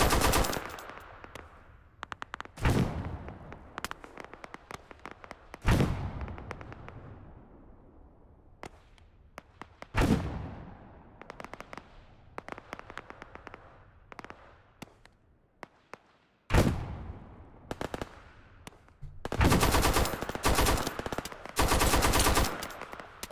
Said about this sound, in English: Whoa, dude, they're shooting me through the smoke.